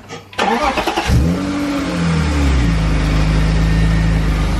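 A BMW E36 drift car engine cranks and catches, revs briefly, then settles into a loud, steady rumbling idle close by.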